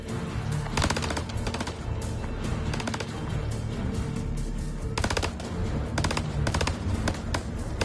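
Gunfire in a video game comes as loud, repeated automatic bursts of rapid shots over a dense, busy background of game noise.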